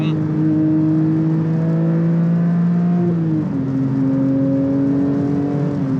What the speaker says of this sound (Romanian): Să auzim motorul